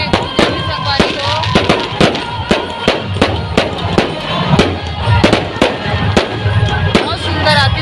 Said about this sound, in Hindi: लगातार आतिशबाजी के पूरा मैदान में गूंजे